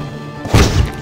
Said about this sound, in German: Oh, die explodieren direkt.